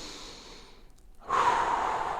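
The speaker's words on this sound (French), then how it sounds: "Respiration profonde." Deep breathing during a stretching session, a quiet exhale followed by a brief pause and then a strong, close inhale or breath of air that holds steady to the end.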